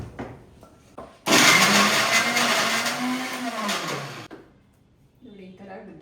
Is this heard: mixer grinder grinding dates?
yes